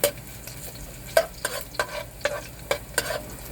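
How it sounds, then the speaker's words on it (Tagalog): Flaked fish sautés in a hot pan for a Filipino vegetable dish with coconut milk, a close, steady sizzle punctuated by rhythmic scrapes and taps of a spoon stirring roughly every half second. "Gigisa muna natin guys yung isda."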